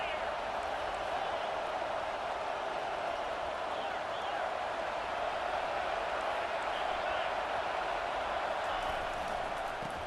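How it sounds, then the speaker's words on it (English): A stadium crowd in an American football video game roars steadily and loudly, a dense continuous wash of cheering that never lets up, likely with commentary running over it. "This crowd rising up, sensing that its defense needs some help."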